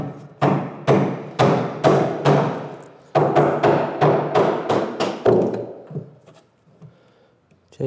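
A mallet drives a chisel into wood on a workbench with a steady series of close, resonant knocks, about a dozen in all, before the blows stop and the piece is broken off, leaving a faint crack and quiet handling noise.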